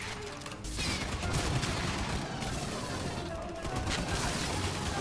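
Continuous SMG gunfire from Aliens: Fireteam Elite, a dense rattling stream of shots that runs almost the whole time after a brief quieter start, with a short dip midway.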